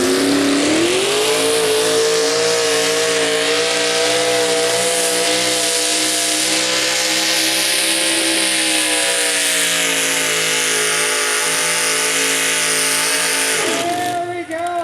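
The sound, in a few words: super modified race cars with Merlin engines racing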